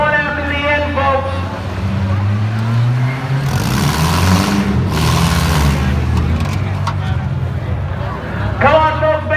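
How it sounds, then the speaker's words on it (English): Cars in a demolition derby at the Skowhegan Fair in Maine rev loudly and grind against each other under continuous arena commentary over a loudspeaker and crowd noise. "the best massive crashing Demolition Derby in the state of Maine"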